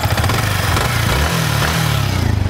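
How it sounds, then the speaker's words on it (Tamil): A Yamaha MT-15 BS6 motorcycle engine runs steadily at close range, a low throbbing idle with a brief blip of revs in the middle, no talking. "engine sound and exhaust sound பார்க்கலாம் ஃபர்ஸ்ட் வந்து இன்ஜின் சவுண்ட் பார்க்கலாம்"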